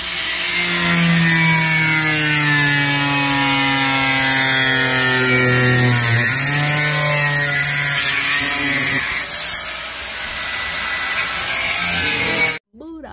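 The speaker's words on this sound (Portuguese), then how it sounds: "Enquanto o Calef tá furando lá em cima" A power drill buzzes loudly and close, its pitch wavering and dipping as it bites into a trailer roof, then it cuts off near the end.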